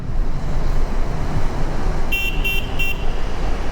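A car horn on a dusty highway from Jammu to Srinagar, with three short toots in quick succession over steady loud engine and road rumble.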